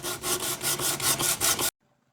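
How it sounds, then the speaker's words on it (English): A folded 120-grit sanding disc rubs by hand over painted wood on the front of a Drexel dresser, about eight quick rhythmic scraping strokes close up, stopping abruptly into silence. "I'm going to try to sand off the paint on the front of the door box."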